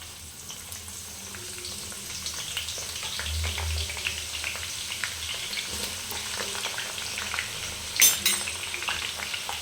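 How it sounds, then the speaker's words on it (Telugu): Onions fry in hot oil in a pot for Hyderabadi biryani, giving a steady soft sizzle and crackle with occasional stirring clinks, and no talking. "ఈ విధంగా అందులో మనం అయితే ఆనియన్స్ ఫ్రై చేసుకుంటాం."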